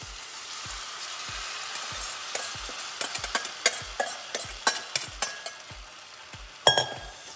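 Crab in a pan with an oyster sauce, white pepper and cornstarch mixture sizzles under a quick run of metallic taps and clinks from a utensil, close and distinct, ending in a louder clatter, with no speech.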